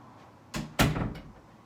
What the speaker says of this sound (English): Let me close my door real quick.